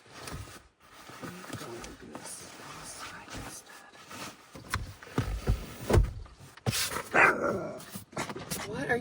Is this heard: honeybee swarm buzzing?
no